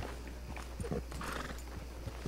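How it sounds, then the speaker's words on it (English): Missouri Fox Trotter horse in the video game Red Dead Redemption 2, a few soft hoof clops at a walk, quiet and close, with faint background ambience and no talk. "Eu acho que ele é um Tennessee, um Missouri Fox Trotter único, só tem ele com essa aparência."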